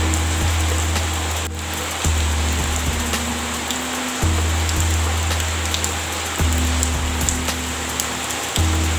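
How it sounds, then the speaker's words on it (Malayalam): Light rain falling steadily outdoors, a soft continuous patter of drops with a low rumbling hum underneath that cuts in and out in repeating stretches, no voices. "കുറേ നേരം കാത്തിരുന്നു, ചെറുതായിട്ട് മഴ വന്നിട്ടുണ്ട്."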